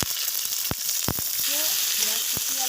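Chopped onion and chili sizzle steadily in hot oil in a wok, with dried red chilies and bay leaf in the pan, broken by a few sharp clicks of a spatula stirring.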